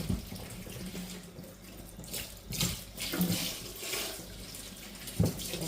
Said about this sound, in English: Let me just wash my gloves.